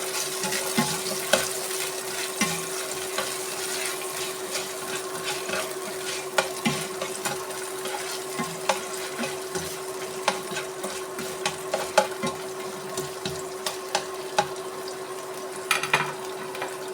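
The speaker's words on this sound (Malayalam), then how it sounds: "ഗാർണിഷ് ചെയ്യാൻ വേണ്ടി കുറച്ച് തേങ്ങാക്കൊത്ത് വറുത്തെടുക്കാം." Coconut pieces fry for garnish with a steady sizzle, while a spoon stirs and clinks against the pan in irregular taps and scrapes close by.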